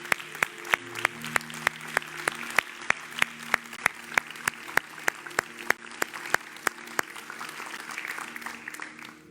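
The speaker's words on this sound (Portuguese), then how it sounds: "Vamos aplaudir Ele por tudo que fizemos." A church congregation applauds in worship, a moderate wash of clapping punctuated by sharp rhythmic hand claps, with faint held tones underneath, steady across the whole stretch.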